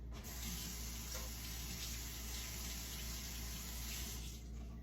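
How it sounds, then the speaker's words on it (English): Tap water runs steadily over yellow and orange bell peppers in a kitchen sink, a continuous close hiss and splash for the whole stretch with no talking. "We're gonna run those under the water."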